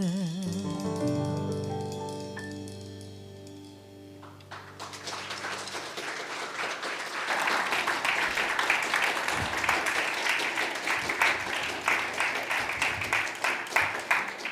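A church congregation applauds the band during a Sunday service: warm music fades out over the first few seconds, then broad, steady clapping from many hands swells in and carries on strongly to the end.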